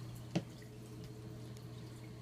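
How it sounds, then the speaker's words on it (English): A single faint drip lands in a reef aquarium from a drip-acclimation line feeding new coral into the tank, one soft plink over a low steady hum. "So, drip acclimating them right now."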